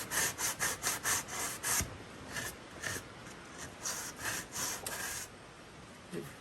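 Rhythmic rasping strokes of a sanding block rubbing on wood, a quick run of back-and-forth scrapes, a pause, then another steady run.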